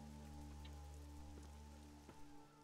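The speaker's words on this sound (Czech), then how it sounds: "A zase prší" Rain falling in the video game Risen 2, a faint steady patter heard beneath a low constant game hum, with no talking.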